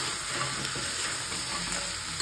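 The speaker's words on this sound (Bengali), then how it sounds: "এবারে এই যে কাঁকড়া ভাজাগুলো এর মধ্যে দিয়ে দেব, দিয়ে আরো একবার ভালো করে কষিয়ে নেব।" Fried crab pieces sizzle and crackle in a pan of spice masala for a Bengali crab curry, a steady close frying hiss with faint stirring scrapes throughout.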